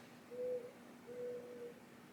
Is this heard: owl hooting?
yes